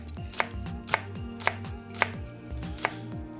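Knife chopping green onions on a cutting board, five or so crisp evenly spaced cuts close up, over a faint background with low shifting tones and no talking.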